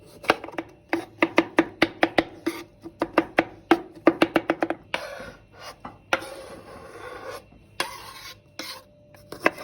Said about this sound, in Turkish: Dört adet domatesimizi ince ince doğruyoruz.